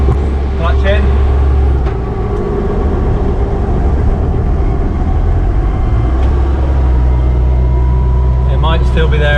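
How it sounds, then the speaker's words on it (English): A Land Rover Defender drivetrain rumbles steadily at close range, with low engine and gearbox noise throughout and faint clicks and whines as the shift from neutral into fifth is made. Someone talks over it. "There's a bit of a noise when you come out of neutral into fifth."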